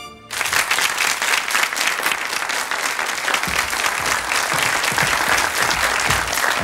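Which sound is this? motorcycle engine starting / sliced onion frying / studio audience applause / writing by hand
studio audience applause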